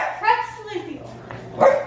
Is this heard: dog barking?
yes